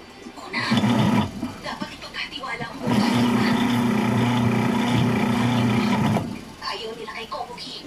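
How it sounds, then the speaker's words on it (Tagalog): A repaired household appliance's electric motor runs in two bursts, a steady loud hum with a low drone, cutting in briefly near the start and then running for about three seconds before stopping. "Ibig sabihin, working pa yung motor niya."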